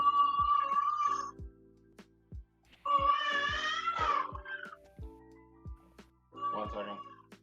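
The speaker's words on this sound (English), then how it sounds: "that was the cat." A cat meows several times, close and clear, between sharp clicks and a steady tonal background, with people talking over parts of it.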